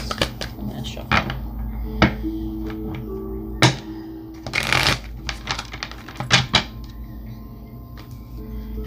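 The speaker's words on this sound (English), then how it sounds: "I'm going to shuffle." Tarot cards being shuffled by hand, a series of crisp riffles and snapping slaps with thuds as the deck is tapped, close up, with occasional speech between bursts.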